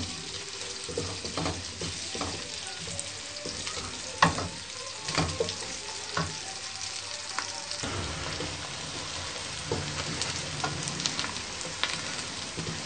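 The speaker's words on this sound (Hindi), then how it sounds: "प्याज को हम हल्के गोल्डन ब्राउन करेंगे।" Onions fry in a pan toward light golden brown, a soft continuous sizzle broken by repeated spoon scrapes and stirring knocks, close and moderately loud, with no talking.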